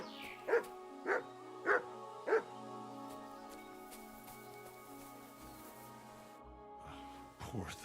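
Mutz the dog barks four times in Kingdom Come: Deliverance II, evenly spaced sharp woofs near the listener, followed by quieter ambience and a brief closing rustle.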